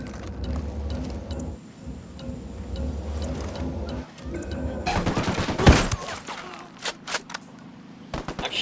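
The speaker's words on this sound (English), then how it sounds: "I'm shooting these fuckers." Gunfire in the game Ghost Recon Wildlands: a rapid fusillade of shots crackles over a steady game soundscape, building to a loud cluster of bursts, then scattered shots trailing off.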